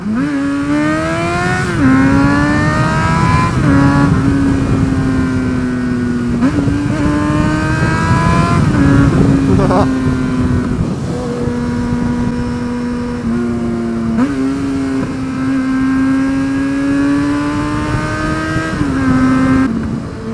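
A motorcycle engine revs hard and loud, its pitch rising and falling through repeated gear changes, close by and continuous.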